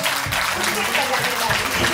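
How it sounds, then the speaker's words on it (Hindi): An audience at a yoga day event claps steadily for two seconds, a dense wash of close applause. "अपने लिए भी एक ताली बजा लीजिए"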